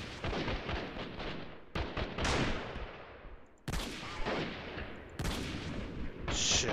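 Heavy gunfire and explosive blasts in the war game Freeman Guerrilla Warfare, with loud booming shots in quick succession, several sharp bursts and rolling echoes after each blast.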